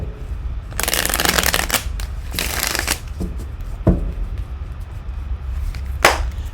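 Tarot cards are shuffled in several bursts of riffling, with softer sliding and tapping sounds as cards are laid down on a surface, close and clear, no talking.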